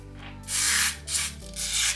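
Close, crackly rubbing bursts in three waves, dry and textured like hair product worked between fingers, with no voices.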